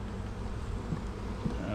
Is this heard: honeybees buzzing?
yes